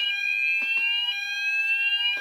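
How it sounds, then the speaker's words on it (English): During a test, a fire alarm sounds with a loud, continuous, high electronic tone that holds steady throughout and has no pauses, and there is no talking. "fire alarm test"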